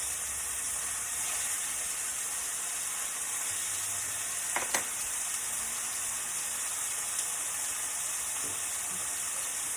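Pork chops sizzle steadily in a hot pan after being flipped, a continuous close frying hiss with a few faint clinks and no talking.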